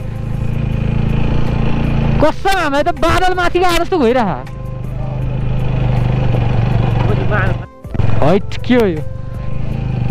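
A motorcycle engine drones steadily while off-roading up a mountain track, riding in low gear in urban mode. Its hum runs under excited talk from riders throughout, and it briefly cuts out near the end before resuming.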